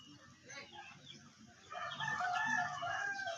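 A rooster crows loudly and close by, its drawn-out call rising in the second half after quieter rustling background sounds.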